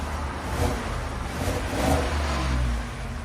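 A 2024 Ford F-150 with the 5.0 Coyote V8 on its stock exhaust revs in a workshop, a deep rumbling engine swelling twice in short blips over a steady idle, close by.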